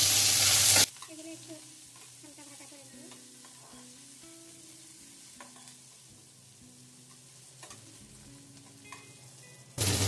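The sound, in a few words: onions and green chilies frying in oil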